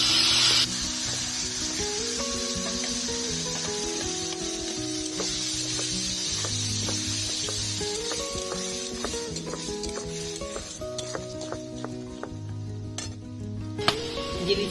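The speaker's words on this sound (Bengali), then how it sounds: "বেটে রাখা ঝিঙে দিয়ে দিলাম।" Ground ridge gourd hits a pan of browned onions and frying, a steady bright sizzle that continues throughout, with occasional clinks and stirring scrapes of a utensil against the pan, no voices.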